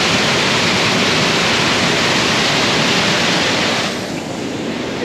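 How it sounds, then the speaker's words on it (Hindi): Strong river current rushing loudly and steadily at an unsafe spot, a dense continuous roar of churning water close by with no pauses. "पानी का बहाव लग रहा है ना"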